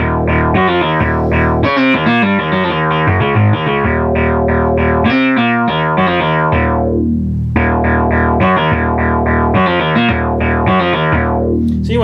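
A Moog Source analog synthesizer plays back a real-time recorded sequence, a looping run of distorted, bright synth notes in steady rhythmic phrases, loud and continuous with no voices.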